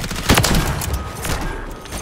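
Dense, loud bursts of gunfire from a sniper video game crackle and boom in quick succession, filling the whole moment without speech over them.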